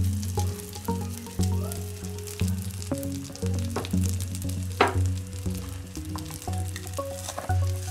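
Semai vermicelli fries lightly in ghee over very low heat. A soft, steady sizzle and crackle continues close by throughout, with occasional stirring scrapes and a low background hum.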